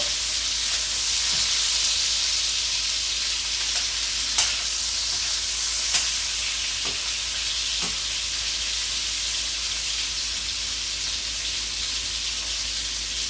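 Beef searing in a pan on medium-high heat for stroganoff, a loud continuous close sizzle and hiss, with a few faint clicks of the meat being moved around.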